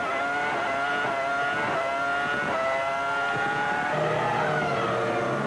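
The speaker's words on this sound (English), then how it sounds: "Just listen to this engine scream." A high-revving Formula One engine screams continuously during qualifying at the 2000 San Marino Grand Prix, rising and falling in pitch as the car drives hard, loud and sustained with no talk.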